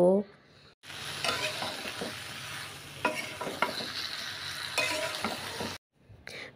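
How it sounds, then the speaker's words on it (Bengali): Eggplant and potatoes stir-fry with spice masala in a pan, a steady close sizzle with repeated scraping stirs running throughout, dropping away near the end. "এখন আমি মশলার সঙ্গে বেগুন আলুটা ভালো করে কষিয়ে নিব"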